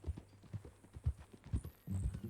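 Horse hooves clip-clopping at a walk in the video game Red Dead Redemption 2, a steady run of soft close thuds with a low hum beneath and no talk.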